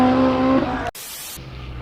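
A Honda Civic Si with a K-series engine holds a steady, high-revving drone on a track for under a second, then cuts off abruptly into rough road and wind noise.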